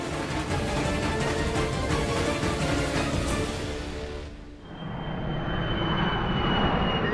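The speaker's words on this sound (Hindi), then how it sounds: "लंदन से आने वाली फ्लाइट संख्या GX782 लैंड कर गई है" Passenger jet landing at an airport, a loud broad engine roar that dips briefly then swells again with a rising whine toward the end, no voices.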